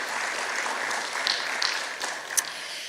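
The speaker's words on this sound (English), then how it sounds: "huge round of applause to all of them" Guests at a university business scholarship breakfast applaud donors with a short burst of soft, fairly distant clapping, a few sharper claps standing out.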